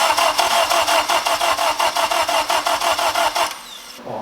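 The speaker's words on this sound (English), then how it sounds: "I'm gonna crank this over for a while and get some oil flowing through the turbo first." A turbocharged 8th-generation Honda Civic engine cranking over on the starter without firing, a loud even rhythmic churning of about fourteen cycles that stops abruptly, followed by a brief quiet hiss.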